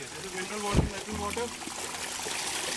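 Footsteps wade through a shallow, rocky river in dense jungle, with soft splashing and trickling water close by while someone talks over it.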